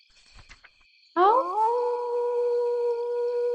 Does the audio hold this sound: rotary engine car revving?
no